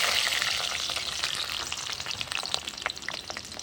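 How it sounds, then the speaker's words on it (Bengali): Eggplant pieces fry in hot oil over an earthen clay stove, a dense crackling sizzle with rapid spitting pops, close and steady throughout. "তেলটা আমার গরম হয়ে গেছে, এবার বেগুনগুলো ভেজে নেবো।"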